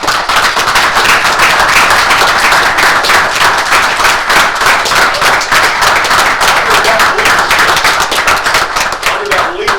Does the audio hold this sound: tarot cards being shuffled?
no